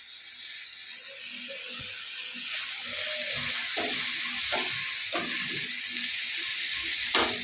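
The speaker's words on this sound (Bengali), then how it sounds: "ক্যাপসিকাম আর টমেটো হালকা করে ফ্রাই করে নেব" Capsicum and tomato fry in butter on a hot tawa, giving a soft, steady sizzle and hiss with occasional scraping stir sounds, fairly faint and without talk.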